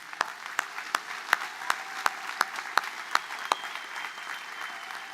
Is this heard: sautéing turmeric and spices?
no